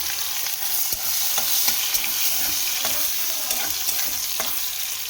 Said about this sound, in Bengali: ডালে ফোড়ন দিয়েছি, জিরে, শুকনো লঙ্কা,